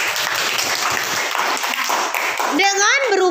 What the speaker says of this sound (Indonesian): ayo kasih aplaus dulu